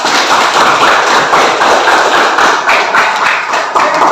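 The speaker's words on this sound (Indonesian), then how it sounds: "aplaus untuk kita semua dulu ya" Students applaud in a classroom during an Indonesian language lesson, with steady, close clapping from a group that keeps a lively, even pace for a few seconds.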